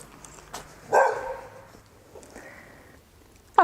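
A dog in a garage gives a few sharp, close barks spaced apart, with quieter background noise between them and no talking.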